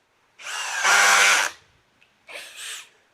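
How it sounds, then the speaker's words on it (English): Ryobi 1+ HP compact cordless drill running at speed 2 with a bit fitted: a loud, close motor whine lasting about a second, then a shorter second burst after a brief pause. "So this is the Ryobi Compact. Now it is their 1+ HP compact drill. And this is in speed 2, same bit."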